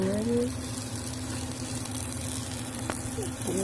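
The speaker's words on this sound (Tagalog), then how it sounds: "Kumukulo na yung tubig." Water heating in a cooking pan with bean sprouts and sausage, a continuous soft sizzling, bubbling hiss close by, with a brief clink near the end and a voice heard faintly.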